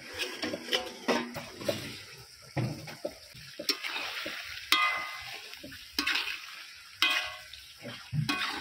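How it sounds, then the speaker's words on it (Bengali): Chicken curry fries in a pan while it is stirred, with repeated scraping strokes of a spatula every second or so over a wet, bubbling sizzle, close up and without talk. "মাঝে মাঝে চাপা খুলে নেড়ে নেবো যাতে না তলাতে লেগে যায়"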